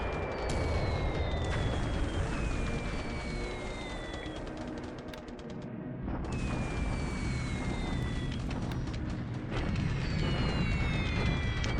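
A video game naval air strike by Betty bombers sends repeated heavy explosions and booms rolling under whistling descending tones, with a brief lull before the blasts build again.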